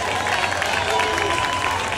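Audience applause for contestant number one at a Dragon Ball Kamehameha contest: dense, steady clapping from a crowd, filling the full two seconds at an even level.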